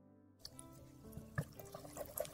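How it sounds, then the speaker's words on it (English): Water trickles and drips into thick lemon bar batter in a rice cooker recipe, a brief, faint pour with small splashy drops, close up and quiet, no talking. "I'm going to add additional tablespoons of water until I get the right consistency"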